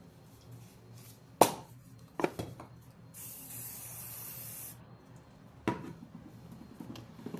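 A single sustained hiss of spray coating applied to a macramé leaf made of string, lasting about a second and a half, set between a few sharp handling taps and rustles nearby.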